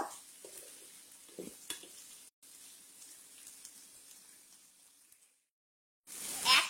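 Thinly sliced potatoes from two medium potatoes are mixed in a pan, giving faint scrapes and a soft sizzle early on, then a short near-silence before a louder rustling burst at the end.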